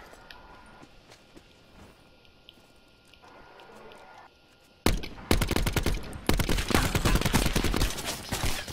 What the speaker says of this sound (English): I'm shot at.